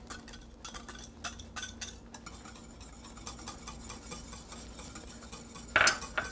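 A utensil stirs gelatin into thickening custard in a pot, giving steady scraping and light clinks against the metal, close and continuous, with a brighter knock near the end and no voices.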